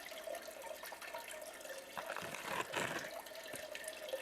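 Gold paydirt, a minus-40-mesh tailings rerun from a reserve blend, poured into a water-filled panning bowl: a steady wet wash and trickle with a louder sloshing swell near the end, close and alone.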